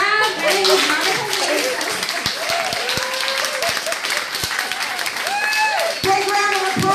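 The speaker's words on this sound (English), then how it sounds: "Big round of applause for Monica and Monica" Audience applause for a comedian at a stand-up comedy show, a sustained patter of clapping hands with crowd voices and shouts rising over it, continuous for several seconds.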